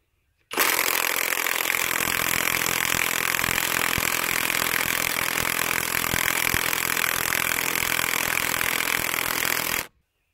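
A Makita clone impact wrench removing fasteners gives a loud, continuous high-pitched whirring burst lasting about nine seconds, starting and stopping abruptly, with faint rapid hammering underneath.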